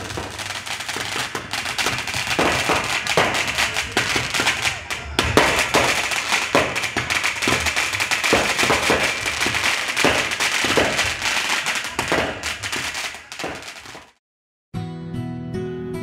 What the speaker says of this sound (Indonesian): dan kembang api.